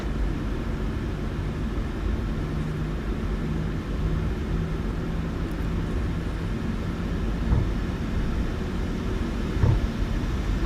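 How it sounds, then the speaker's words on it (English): Airliner engines in a flight simulator game spool up to takeoff thrust during the takeoff roll, giving a steady broadband roar and low rumble at a constant moderate level with faint thumps near the end. "Set takeoff thrust."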